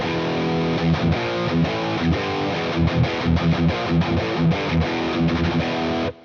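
An electric guitar played through a Kemper Profiler with the Kemper Drive 808 minimum distortion preset chugs out loud, rhythmic distorted chords and riffs, then cuts off abruptly at the end.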